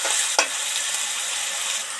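Pieces of ginger fry with sugar in hot oil for a potol (pointed gourd) dish, giving a steady close sizzle throughout, with one brief clink near the start.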